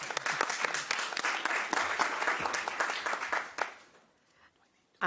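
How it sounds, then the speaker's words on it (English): A conference audience claps for about four seconds, dense and fairly close, then the applause thins out and fades to near quiet. "Round of applause, please."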